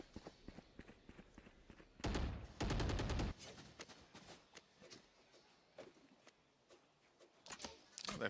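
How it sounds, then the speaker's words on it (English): Pistol gunfire in a Valorant esports match: scattered quiet shots and footsteps, then a loud rapid burst of fire for about a second, followed by sparse distant pops and further sharp shots near the end. "they're just going to have to play with the pistols, with the classics for the most part"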